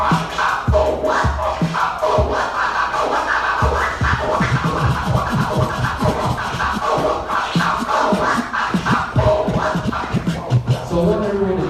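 Slow DJ turntable scratching on a record, repeated dragging back-and-forth strokes in a steady rhythm over about twelve seconds, loud and close with no talking.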